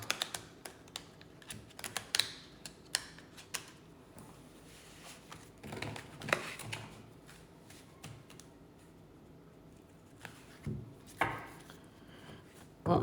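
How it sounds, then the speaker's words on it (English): Crisp, irregular riffling and tapping of tarot cards being shuffled by hand close up, with soft flutters and occasional sharper slaps, no talking. "So let's shuffle the cards once more."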